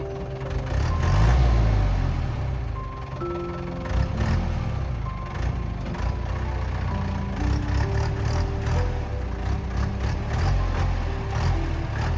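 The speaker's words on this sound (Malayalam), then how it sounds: "നമ്മുടെ ഡ്രൈവർ മെല്ലെ വണ്ടി റേസ് ചെയ്തെടുത്തു." A safari vehicle's engine in the forest of Nagarhole, near a herd of wild elephants, runs and revs in a steady low drone, a rise in the first seconds, then a lower steady run with faint tonal notes overhead.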